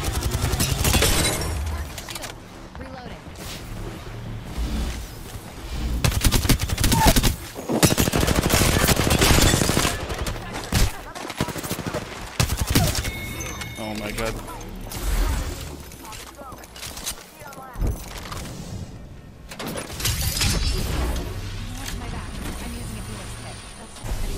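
Apex Legends gunfire, repeated bursts of automatic shots and single cracks with shattering impacts, loud and frequent over a long stretch, rising to a heavy barrage midway, with a player talking throughout.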